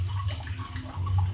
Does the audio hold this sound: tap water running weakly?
yes